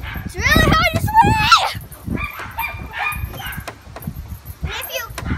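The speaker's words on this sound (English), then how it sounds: "if you hear those dogs, those are our neighbor dogs" Neighbors' dogs bark repeatedly in the background near a backyard swing, their yips and honk-like barks mixed with children's voices and chatter throughout.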